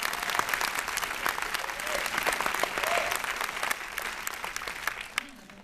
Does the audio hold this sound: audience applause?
yes